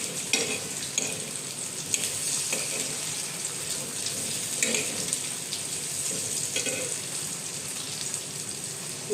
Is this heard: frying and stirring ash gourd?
yes